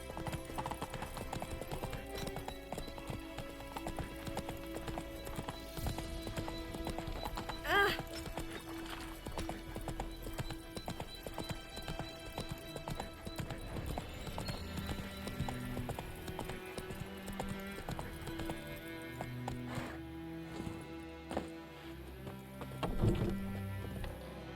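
Geralt's horse Roach trotting in The Witcher 3: Wild Hunt, a steady clip-clop of hooves running throughout over game music and ambience, with a brief whinny and some voices partway through.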